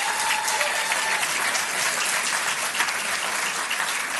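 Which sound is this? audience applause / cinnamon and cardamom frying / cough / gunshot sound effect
audience applause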